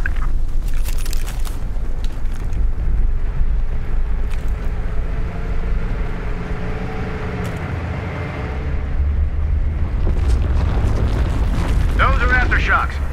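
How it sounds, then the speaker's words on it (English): Deep aftershock rumbles in Battlefield 3 roll on continuously as heavy, loud low-end tremors that swell near the end, with soldiers' voices speaking over them. "Those are aftershocks."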